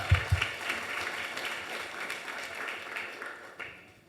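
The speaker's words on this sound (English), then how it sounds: "Let's give a giant round of applause to Tara Moore" A conference audience at a real estate session gives a round of applause for an award-winning panelist, a couple of loud close claps followed by a soft, fading patter of clapping from the crowd.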